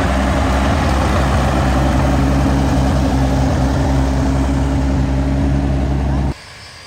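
A tractor engine at Williams Grove drones steadily and loudly with a low rumbling hum and harmonic tones, then drops abruptly to a quieter level near the end.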